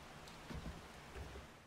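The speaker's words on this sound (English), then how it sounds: "Oh, rain." Rain falls in the video game 7 Days to Die as a soft, steady broadband hiss with faint patters. It is quiet and continuous, with no talking over it.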